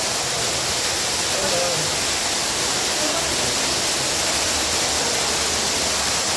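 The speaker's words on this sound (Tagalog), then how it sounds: "ang lakas ng tubig" Loud, steady rushing of water in an underground river cave in Cavinti, Laguna, a dense unbroken roar like a strong torrent or waterfall close by.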